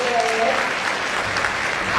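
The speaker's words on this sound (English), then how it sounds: "Let's give him another warm round of applause." An audience at a business talk gives a warm, continuous round of clapping, dense and even from start to finish.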